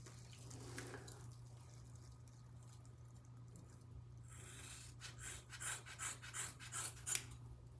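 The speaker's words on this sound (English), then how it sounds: "These dull ass scissors." Dull scissors working through hair for a buzz cut, a run of close, faint snips and rubbing scrapes that grow busier toward the end over a low background hum.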